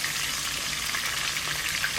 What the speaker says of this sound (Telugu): లెగ్ పీస్లను తీసి ఇలా బాండి పెట్టి కొద్దిగా ఆయిల్ వేసి అందులో ఇలా స్లోగా కుక్ చేసుకోవాలి.